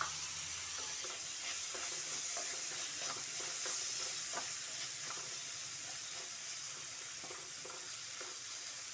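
Finely chopped tomato frying in a pan: a steady, moderate sizzle with stirring scrapes, close by and without talk.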